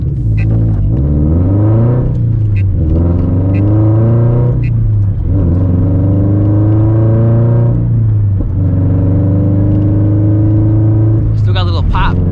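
Scion FR-S with stage 2 tune running E85 flex fuel revs repeatedly, the engine climbing and falling in loud, close pulls with a few sharp crackles near the end; voices are heard in the clip.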